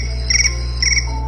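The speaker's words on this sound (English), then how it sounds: "Sounds like crickets." A phone ringtone of cricket chirps: two short trilled bursts, close and clear, over a steady low hum, with no voices.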